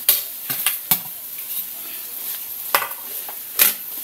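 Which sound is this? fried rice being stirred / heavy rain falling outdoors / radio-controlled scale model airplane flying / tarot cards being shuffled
fried rice being stirred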